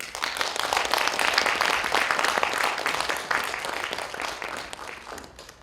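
An audience at a literary festival gives vigorous applause to welcome a Korean traditional music group, a dense, continuous clapping that holds strong before tapering off gradually.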